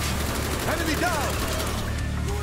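A Galil rifle fires in Call of Duty: Black Ops, a rapid burst of loud, close gunshots with in-game voices calling out.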